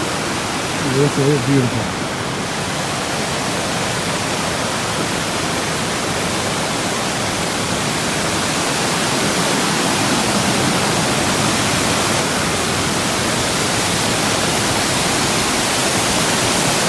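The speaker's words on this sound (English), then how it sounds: "we are now at Long Falls. It's just a little side trail off the AT, about 250 feet." Long Falls, a waterfall just off the Appalachian Trail, roars as a dense, steady rush of falling water heard close up, with a person briefly speaking over it near the start.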